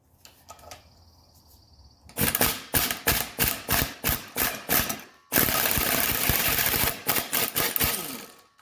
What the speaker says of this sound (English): you can see it just pulls our bearing right off